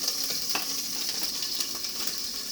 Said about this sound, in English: I just want them browned on both sides just like that.